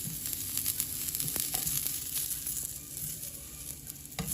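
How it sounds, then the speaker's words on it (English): Garlic Brussels sprouts frying in a thin film of oil in a pan, giving a steady close sizzle with faint crackles and occasional stirring clicks, no voices. "I don't fry it with a lot of oil. I just a little bit of oil, grease the bottom of the pan"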